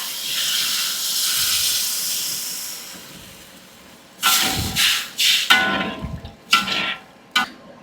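Water poured into a hot pot of fragrant spices with lemongrass and tamarind solution gives a loud, sustained steam hiss, which fades and is followed by a few sharp clanks and scrapes of utensils against the pot.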